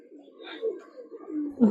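Soft, low pigeon cooing nearby, a few murmuring coos in a row, ending with a sudden louder rustle.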